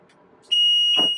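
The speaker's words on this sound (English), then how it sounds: "So there's the alarm." A temperature controller sounds its high deviation alarm, a sudden loud, steady electronic beep that starts partway in and holds, with a faint knock underneath.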